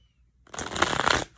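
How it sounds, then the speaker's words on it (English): Tarot cards are shuffled in one quick riffle, a soft close-up burst of papery flutter lasting under a second after a brief silence. "One last shuffle."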